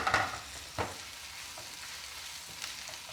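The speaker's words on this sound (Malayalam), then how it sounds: "ഓപ്പൺ ചെയ്ത് ഇപ്പോൾ ഒന്ന് ഇളക്കി കൊടുക്കുന്നുണ്ട് കേട്ടോ." Bitter gourd curry stirred in a pan, soft scraping strokes over a gentle sizzle, a few distinct scrapes across a short stretch without speech.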